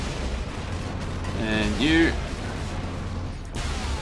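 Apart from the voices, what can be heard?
lascannon fire in video game Space Marine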